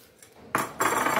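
Metal pan set on a stove over a low flame for cooking an egg and khoya mixture: two quick, close metallic clanks of cookware ring out after a short quiet moment, with no talking.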